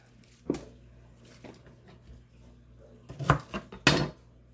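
Knife working on raw garlic cloves on a cutting board, a few sharp, separate knocks and scrapes, with a busy cluster of cuts near the end, close up and without speech.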